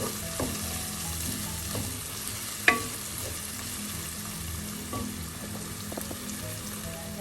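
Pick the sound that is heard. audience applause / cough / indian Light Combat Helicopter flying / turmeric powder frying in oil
turmeric powder frying in oil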